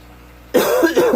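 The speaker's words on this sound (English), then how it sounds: "I'm coughing" After a moment of quiet, a person coughs loudly up close, a short burst of two or three rough hacks.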